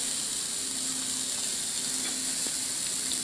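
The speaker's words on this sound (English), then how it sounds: "You guys are gonna see this sizzle underneath over here." Marinated spicy pork ribs sizzle over an open fire, a steady close hiss with faint pops and crackles running unbroken throughout, no voices.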